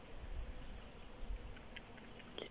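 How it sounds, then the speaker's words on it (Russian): Bees hum faintly at a rural apiary, a soft, low buzz under quiet outdoor background noise with a few light knocks, no talking. "а слышно, как пчелки гудят."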